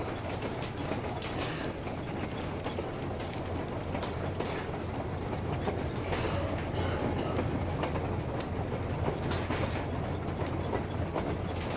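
Train rolling along the tracks in the post-apocalyptic game Metro Exodus: a steady, continuous rumble with faint rhythmic clatter and mechanical creaks, heard alone without talk.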